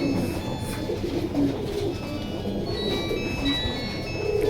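Pigeons coo softly in low, murmuring calls that repeat over a steady background hum of indoor noise.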